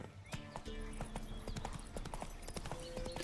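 Horse hooves clip-clop in Witcher 3, a quick, fairly regular gallop of close, crisp hoofbeats with a brief whinny and game sounds behind them, no talking.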